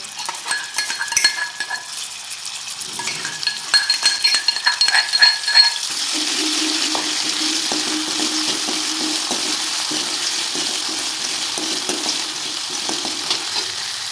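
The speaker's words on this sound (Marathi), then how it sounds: "त्याच्यामध्ये आपण वाटून घेतलेला हिरवी मिरची, लसूण, अद्रक ते तेलामध्ये टाकून घेऊया।" Green chilli, garlic and ginger paste drops into hot oil with clinks of a spoon, then a loud, steady sizzle of frying that continues alone without talk.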